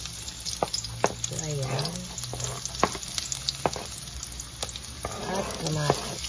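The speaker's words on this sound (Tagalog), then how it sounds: "So, ilagay na natin yung bawang. Tapos, isunod na rin natin yung sibuyas." Garlic and onion fry in hot oil in a pan for a sautéed chayote dish, crackling loudly and steadily close by, with sharp stirring clicks and someone speaking briefly over the sizzle.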